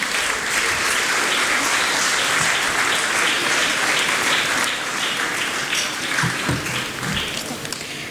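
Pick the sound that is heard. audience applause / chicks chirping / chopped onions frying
audience applause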